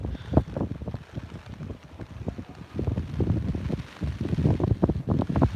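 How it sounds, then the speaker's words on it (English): Gusty wind batters the microphone during snowfall in New York City, in uneven bursts, loud low thumps rising and falling over about five seconds. "Too damn windy."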